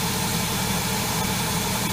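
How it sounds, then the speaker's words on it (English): A Toyota Previa engine idles with a cone air filter fitted, giving a loud, steady, close rumble overlaid with a broad airy intake hiss that runs unbroken throughout. "So you can hear the hissing of the intake."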